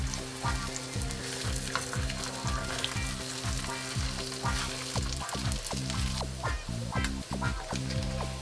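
Spam slices fry in a pan with a continuous crackling sizzle and frequent sharp pops over a faint low electrical hum; no one speaks.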